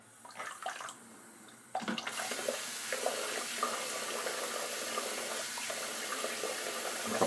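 Water from a tap runs into a shaving scuttle for a warm lather. It starts as soft splashes and dribbles, then a steady close rushing flow takes over and keeps going.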